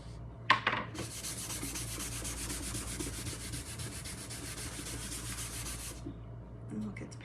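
A cloth rubs a light layer of wax onto stained wood in a continuous, fast back-and-forth scrubbing, close and soft, starting after a couple of brief knocks.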